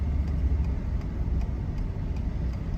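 A large truck engine runs steadily at idle with a low rumbling drone, heard from inside the cab, without any clear rise or fall in revs.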